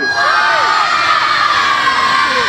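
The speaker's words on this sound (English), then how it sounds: "I want everyone to scream one or two as loud as you can" A large crowd at the 2020 Wanneroo Show screams and shrieks at full volume, a dense, sustained roar of many voices that never lets up.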